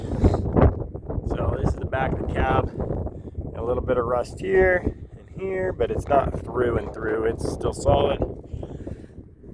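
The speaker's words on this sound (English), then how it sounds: "windy, so sorry about the noise in the background" Gusty outdoor wind buffets the microphone in a steady low rumble beside a 1965 Ford C850 truck, running continuously under a man's close, nearly constant talking.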